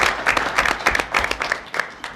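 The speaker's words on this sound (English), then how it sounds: "could we have a round of applause?" Audience at a University of Missouri Board of Curators public session breaks into applause, a dense run of hand clapping lasting a couple of seconds at steady, fairly close volume.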